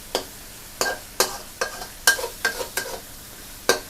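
Shrimp and eggplant are stir-fried in a pan with a quiet, steady sizzle under repeated close, sharp scrapes and knocks of a spatula, about eight in a few seconds.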